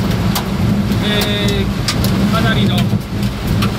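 Heavy rain from a sudden downpour with hail in Hanyu, Saitama, drumming on a car roof in a steady roar alongside engine rumble, with sharp pattering bursts while someone speaks briefly.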